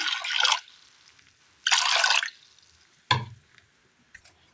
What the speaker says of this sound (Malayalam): ഇതിലേക്ക് ഒരൽപ്പം വെള്ളം ഒഴിച്ച് കൊടുക്കാം